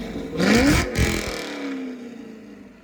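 A C5 Corvette exhaust revs hard, a sharp rising roar that peaks, blips again, then winds down into a fading idle-like rumble, close and loud with no talking.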